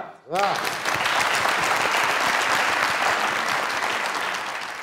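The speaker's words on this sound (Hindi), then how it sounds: "तालियां" Studio audience applause on a comedy talk show, breaking out suddenly after a brief pause and holding as a dense, even roar of clapping until it eases slightly at the end.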